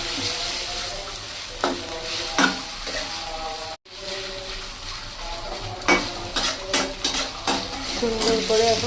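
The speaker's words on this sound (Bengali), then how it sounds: "এবার মশলার মধ্যে চিকেনগুলো দিয়ে দেওয়া হলো। কষানো হবে ভালোভাবে।" Marinated chicken sautéed with spices in a pan, with sizzling under repeated scraping and clinking stirs from a utensil against the pot and a brief dropout partway through.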